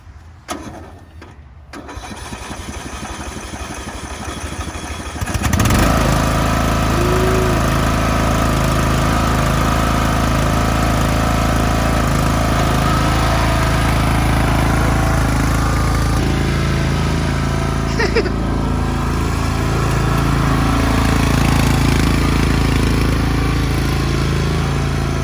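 A Craftsman riding lawn mower cranks a few times, then its engine catches and runs loud and steady close by for about twenty seconds with a constant droning idle.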